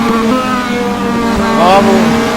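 A race car at the Brno circuit drones steadily in a loud, close engine tone that climbs in pitch near the end, with commentators talking over it.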